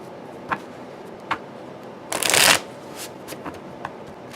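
A short, crisp burst of tarot cards being riffle-shuffled, with a few soft taps and clicks before and after in a quiet room.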